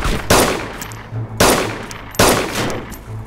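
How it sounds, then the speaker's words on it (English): Gunfire in DayZ Standalone arrives as three sharp, loud shots spaced roughly a second apart, each with a quickly decaying rumbling tail, and no talk over them. "Shooting at me"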